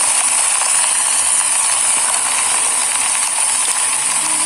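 Peas and shrimp stir-fry over high heat in a hot pan with soy sauce, seasoning powder and oyster sauce, giving a steady, loud sizzling hiss that runs unbroken throughout.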